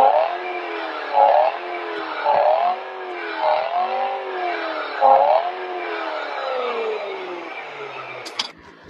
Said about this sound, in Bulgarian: Хайде сега малко да подадем газ, защото този автомобил звучи много добре.